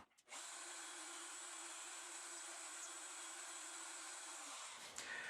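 A router or similar power tool runs steadily for about four seconds while it makes a second cutting pass around a maple inlay on a wooden heart ornament. It is a close, loud, even whine that starts abruptly and then spins down.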